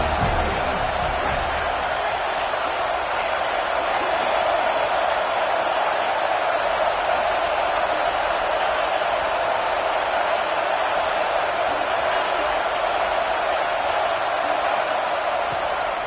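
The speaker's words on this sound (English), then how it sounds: "Big third down as the crowd gets behind this defense." A college football stadium crowd roars steadily through a big third down, a dense, loud, continuous wall of cheering and noise that never lets up, heard from within the stands.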